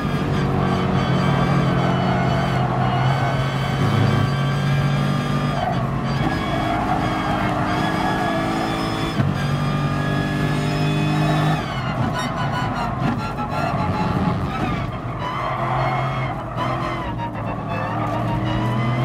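Race car engine in the video game GT Sport on Bathurst's Conrod Straight after Forest Elbow, a loud sustained engine drone with gear-change shifts and tyre scrubbing throughout.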